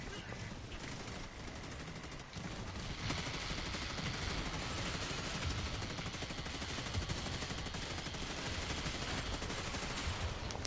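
Rapid gunfire rattles loud and near almost without pause in the Helldivers 2 video game while shooting at robots, with dense bursts layered over the action and a brief dip early on.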